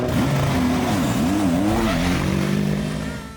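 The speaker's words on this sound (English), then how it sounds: "it's the first time in a while we see all the cars on the track at the same time" WEC race cars on track at Sebring pass by loudly, engines revving and shifting pitch as they accelerate and brake, a close, continuous howl that fades slightly at the end.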